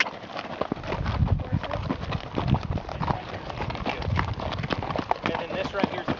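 Horse hooves clip-clop steadily along a desert trail ride in San Tan Valley, Arizona, the close, rhythmic footfalls running throughout beneath people chatting.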